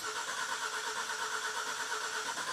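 A 2011-2016 Ford F-150 with a 3.5L EcoBoost V6 and a Full-Race Formline turbo kit cranks over with the throttle held wide open, giving a steady, continuous droning whir that stays level throughout without catching.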